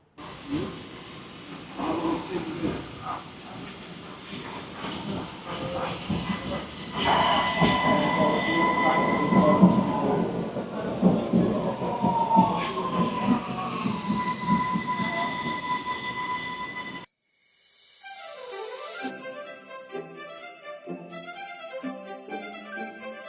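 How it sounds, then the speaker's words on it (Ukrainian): A Vienna metro train ride on Christmas Eve: loud, continuous rumble of the carriage with wheel squeal and rail noise rising and falling. It cuts to music near the end. "Йдемо зараз їдемо в метро."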